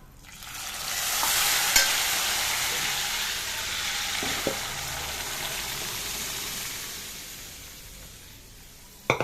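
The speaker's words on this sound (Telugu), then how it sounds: "తాలింపు వేగిపోయిందండి, పప్పు వేసేస్తున్నాను." Cooked lentils poured into a hot tempering with fenugreek powder for ridge gourd dal, stirred in a pan: a loud, steady sizzling hiss with stirring scrapes and a couple of sharp clinks, close up.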